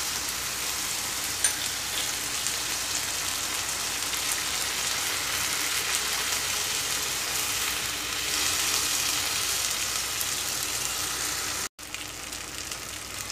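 A sabudana chila, a tapioca sago pancake, sizzles in a little oil in a pan with a continuous crackling hiss, unbroken except for one very short cut near the end.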